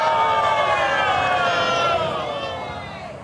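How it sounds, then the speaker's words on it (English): A studio audience groans together in a drawn-out, sinking murmur, reacting to a strange food item; the mass of voices starts loud and fades away. "I heard some groans in the crowd"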